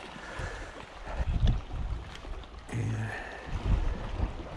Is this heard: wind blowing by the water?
yes